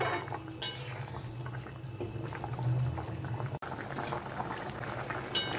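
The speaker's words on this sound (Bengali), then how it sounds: "এবারে হাই ফ্লেমে 5 মিনিটের জন্য ফুটতে দেব" A Bengali fish curry with fried fish and potatoes bubbles steadily in a pot on high flame, a continuous close simmering burble with a brief clink near the end.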